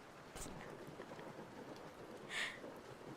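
Soft ambient rain for relaxation hisses quietly and steadily, with a brief louder rumbling swell near the end that suggests distant thunder.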